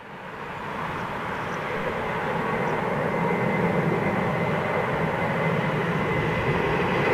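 A big jet airliner departs at a high climb, its broad, steady engine roar swelling over the first couple of seconds and then holding loud and constant, with no voices.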